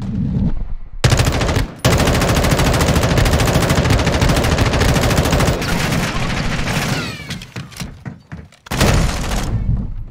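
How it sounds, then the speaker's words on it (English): Sustained rapid automatic gunfire in the Modern Warfare 2 beta, loud and close, rattling for several seconds, breaking off, then resuming in shorter bursts with a few thuds and a brief voice. "he's trying to shoot me through the wall"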